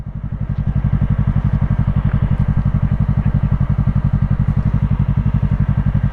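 A motorcycle engine idles steadily and close by with a regular, even pulse while the rider holds the clutch in and rolls to a complete stop.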